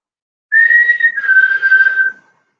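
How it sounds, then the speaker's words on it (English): A single sustained whistled tone inside Michelham Priory, fairly loud and close, holding a steady pitch for under two seconds with a slight drop partway, then stopping. "And you whistle."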